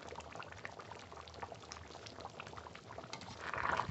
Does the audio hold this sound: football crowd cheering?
no